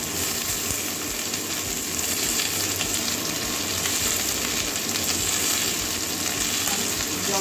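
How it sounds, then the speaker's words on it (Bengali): Potatoes, eggs and salted eggplant frying in a pan, with a constant close sizzle and bubbling crackle over the full length, occasional stirring sounds mixed in. "আলু ডিমটা একটু ভেজে নেব। বেগুনটাও দিয়ে দিচ্ছি"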